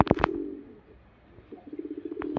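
Soft, low cooing of young racing pigeons, a few short coos at the start and a rhythmic burst near the end, with quiet pauses between.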